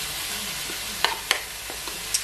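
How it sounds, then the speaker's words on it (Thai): Egg and vegetables stir-fried together in a pan for egg fried rice, a steady close sizzle with a few sharp spatula scrapes and clanks, no talking. "เดี๋ยวเล็กก็จะผัดนะคะผัดไข่กับผักเข้าด้วยกัน"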